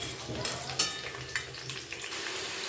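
Half-boiled potatoes frying in a pan for aloo dum, a soft continuous sizzle broken by scraping stirs and a few light clinks, close but fairly quiet, with no talking.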